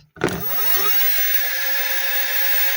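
A converted Bosch Gen 4 mid-drive e-bike motor whirs up after a click, spinning quickly to a steady high electric whine that holds evenly and close.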